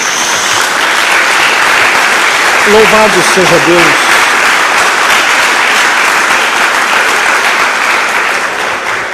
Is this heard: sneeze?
no